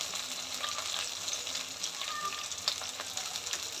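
Continuous loud sizzling and crackling of freshly washed curry leaves frying in hot oil, popping irregularly up close.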